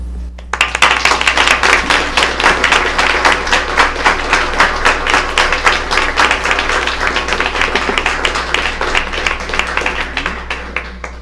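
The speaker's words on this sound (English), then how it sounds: "Please join me in applauding these students and their battalions." Audience at a school board meeting applauding students, loud close clapping that starts abruptly and continues steadily before gradually thinning out toward the end over a low steady hum.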